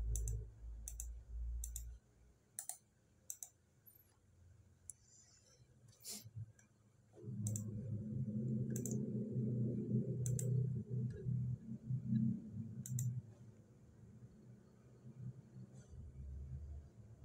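Computer mouse clicking while browsing a journal page: a run of sharp, dry clicks, several in quick succession early on, then more scattered, some over a low rumbling background.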